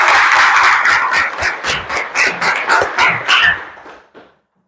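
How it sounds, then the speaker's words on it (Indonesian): Children in a classroom clap their hands together in a loud, fast rhythmic burst of about a dozen beats that stops abruptly, close and echoing slightly. "Tepuk tangan untuk kita bersama"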